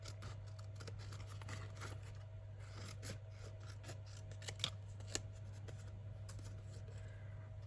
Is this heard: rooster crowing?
no